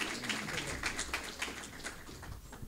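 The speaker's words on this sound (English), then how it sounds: "Let's give them a round of applause, please." An audience at a 2018 municipal candidates forum in Louisiana, Missouri claps for the candidates, steady moderate applause from a fairly small crowd that fades slightly toward the end.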